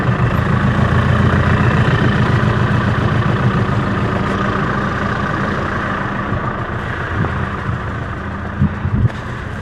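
A farm tractor idles and runs steadily in a field during irrigation work, a continuous low diesel rumble that holds close and even for the whole stretch, with a few faint knocks near the end and no talk.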